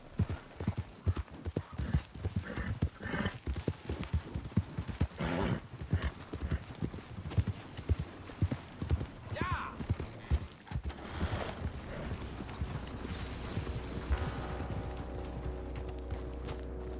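Horse galloping in Red Dead Redemption 2, steady rapid hoofbeats carrying through most of the stretch with a brief whinny midway, then fading under a low mechanical hum toward the end; no talk.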